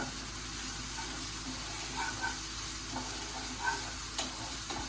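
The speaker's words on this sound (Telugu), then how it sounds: "మూడు నిమిషాలు ఉల్లిపాయలు బాగా ఫ్రై చేసేసుకున్నామండి" Onions fry in a pan with a soft, steady sizzle, punctuated by a few light clicks and scrapes of stirring, fairly quiet with no talking.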